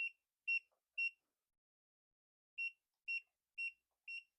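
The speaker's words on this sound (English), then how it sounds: "It's beeping because it's on and it's open." Seven short electronic beeps from a printer left on with its cover open, three close together, then a pause, then four more in a steady rhythm, clear and high-pitched with nothing else heard.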